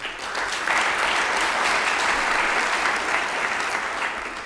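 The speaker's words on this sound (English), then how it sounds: "The first thing I'd like to do is to applaud our co-chairmen" An audience at a constitutional convention legal panel applauds the conference co-chairmen, a loud, even wash of clapping that swells quickly and holds steady before easing slightly at the end.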